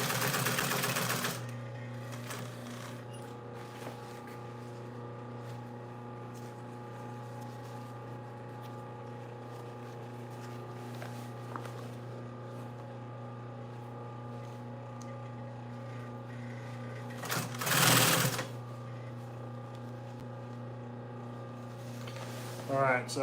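A sewing machine stitches yacht cushion material with a steady mechanical hum and rapid needle chatter, with a louder burst near the end while someone talks over it.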